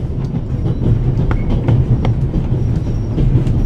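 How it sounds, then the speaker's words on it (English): Steady rumbling train noise aboard the Orient Express in The Raven Remastered, a continuous loud clatter of wheels and carriage with faint rhythmic clicks, no talking. "The noise on this train is driving me crazy."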